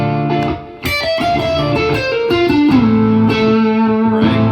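A distorted electric guitar phrase with effects, notes bending and sliding down before settling on a sustained, ringing tone.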